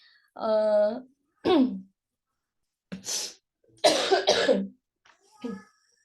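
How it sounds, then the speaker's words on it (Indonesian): Several harsh flu coughs from an adult lecturer come in separate bursts, loud and close, with short silences between them and a softer cough at the end. "lagi batuk flu"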